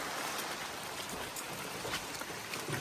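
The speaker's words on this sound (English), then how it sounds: "It's pouring rain." Heavy, steady downpour at a campsite, a dense continuous hiss of rain drumming on surfaces close by, unbroken for the whole stretch.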